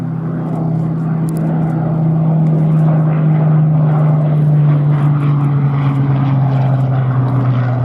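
A Battle of Britain Memorial Flight Spitfire or Hurricane, a WWII piston-engined fighter, flies at Duxford. Its propeller engine gives a loud, continuous, deep drone that holds steady for the whole stretch with no talk over it.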